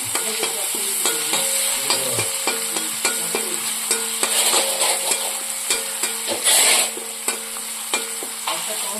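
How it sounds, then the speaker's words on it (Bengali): Onions with dried chili, turmeric and salt fry in a pan before fenugreek leaves go in, a steady sizzle punctuated by repeated rhythmic taps and scrapes of a spatula against the pan. "পেঁয়াজ ভাজা ভাজা হয়ে এসছে"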